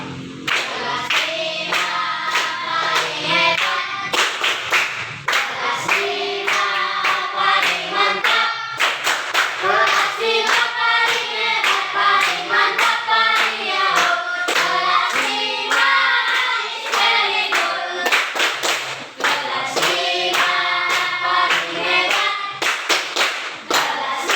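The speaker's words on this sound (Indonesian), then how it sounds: "sambil bertepuk tangan." Children clap their hands in rhythm while a group sings a class chant in a school classroom, the claps sharp and continuous under the loud, bright voices.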